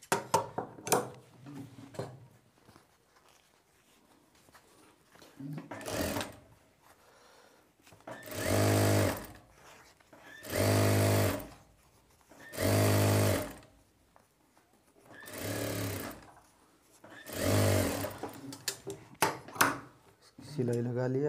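A sewing machine stitches the stand of a shirt collar in five or six separate bursts, each lasting one to two seconds, with short pauses between them. A voice talks briefly at the start and near the end.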